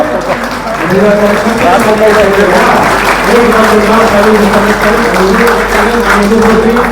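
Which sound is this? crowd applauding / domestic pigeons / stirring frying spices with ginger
crowd applauding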